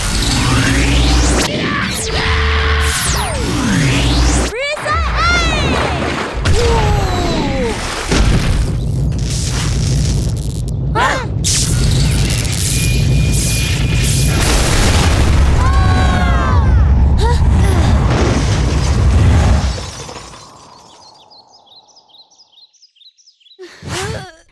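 A cartoon shrink pistol explodes in a loud, dense run of animated effects: booms, whooshes and sweeping squeals that last about twenty seconds, then drop away to near quiet before a short sparkly chirp at the end.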